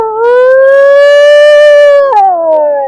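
A human voice imitates a dog howling in the morning: one long, loud, sustained wail that holds steady and then drops in pitch near the end, with no other sound.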